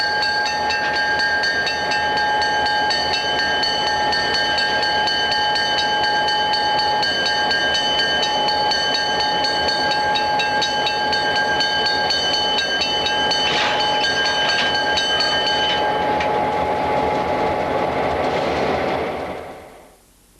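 Canadian National F7 diesel locomotives push a snow plow train along a main line, a steady loud engine drone with sustained tonal whine that fades out at the end.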